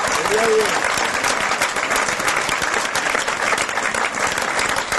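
A church congregation claps together in a steady, full round of applause that continues evenly for several seconds.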